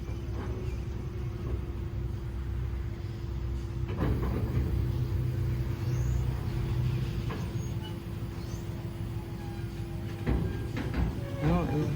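Railroad locomotive backing up during switching work on the Hamilton Northwestern Railroad, a steady low diesel rumble with a constant tone and occasional clanks, heard at moderate distance under faint voices.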